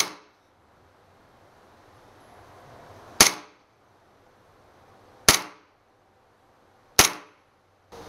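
Three sharp, loud cracks from a Hi-CAPA style airsoft gas pistol charged with green gas and firing 5.93 mm BBs, spaced a couple of seconds apart, each with a brief ringing tail over a quiet room.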